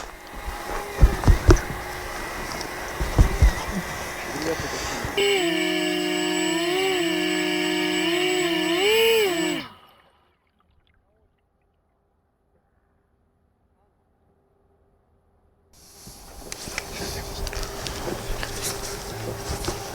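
A multifunctional floating fishing drone boat sets out on a lake with a steady, whining electric motor tone over outdoor wind noise. The tone cuts to near silence before the ambient noise returns, and a person talks at times.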